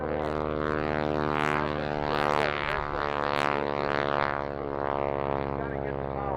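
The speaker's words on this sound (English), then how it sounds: "Gotta get the power up and keep the airplane flying." A propeller airplane performs at the Rochester International Airshow, its engine droning loud and close with a strong harmonic hum that swells and fades slightly as it passes, with faint announcer talk underneath.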